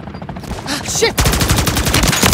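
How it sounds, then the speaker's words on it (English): Sustained automatic gunfire in the video game Call of Duty Modern Warfare 3, a loud dense burst of rapid shots under shouted combat voices. "Taking effective fire!"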